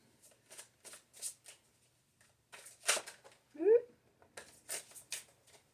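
Tarot cards shuffled and drawn in a quiet room, several soft papery riffles and flicks in short bursts, close and moderately quiet, with a brief vocal-like squeak midway.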